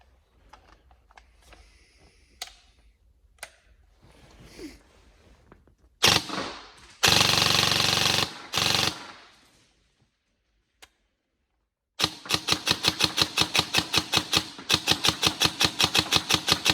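Cyma MP5 airsoft gun with a Prometheus spring, 3D-printed hop arm and custom nub, test firing: a rapid, evenly spaced full-auto burst of sharp mechanical shots, close and loud, after scattered handling clicks and a couple of short bursts.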